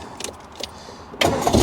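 A Derbyshire-built Paramount car engine cranks and fires up after about a second of quiet, near and loud, settling into a steady run; a few faint clicks precede it.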